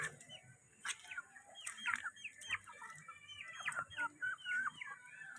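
Backyard chickens cluck and murmur close by among Madre de Agua plantings, with irregular bursts of clucks coming and going over quiet surroundings.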